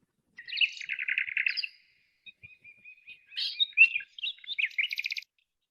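Small birds chirp and trill in quick bursts, with a brief pause midway before more bright, rapid song resumes; clear and fairly close.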